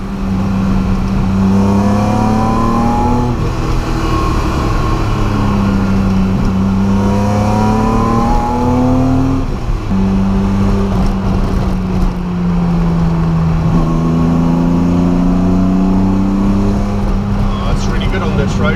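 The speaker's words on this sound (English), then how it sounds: "That engine sounds brilliant." A Datsun 280Z hot rod engine revs and pulls repeatedly from inside the car, loud and continuous, pitch climbing and dropping through several throttle sweeps while occupants talk over it.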